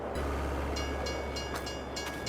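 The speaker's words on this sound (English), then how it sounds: "Yep, train is coming." A train arriving in Farming Simulator 22 gives a steady low rumble with faint high squeals and clicks, heard alone with no talk.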